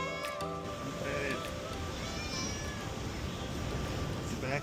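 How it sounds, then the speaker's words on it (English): A cat meows repeatedly on a Seychelles island, a few short cries heard over outdoor background noise with wind and distant waves. "He's not a bad kitty."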